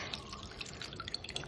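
Milk curds and whey poured into a strainer over a bowl, a quick run of close, light liquid drips and trickles with no talking.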